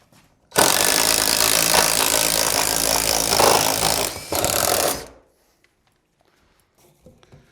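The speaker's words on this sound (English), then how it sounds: "I had to finish drilling one here." A power drill whirs loudly for about four seconds boring through wood during house wiring, dips briefly, then bores on for another second before stopping, leaving near silence.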